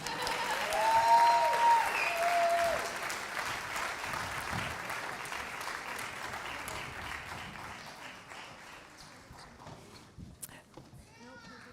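Clapping from the audience after a children's Sukkot presentation, loudest at the start and thinning into scattered claps, with murmured talk and a brief fading sung note underneath.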